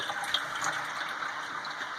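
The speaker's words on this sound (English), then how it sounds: "It means I can kind of squeeze the water out" Water is wrung out by hand in rubber gloves during a porter brewday, giving a close, steady trickling and splashing that lasts the whole moment.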